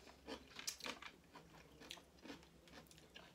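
Pickles are bitten and crunched close to the mic in a quiet eating session with homemade Afghan food. Several sharp, crisp crunches are followed by softer chewing.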